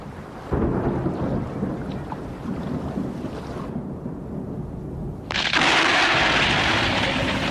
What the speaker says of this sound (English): Between June and September, storms rage over the high Ethiopian plateau.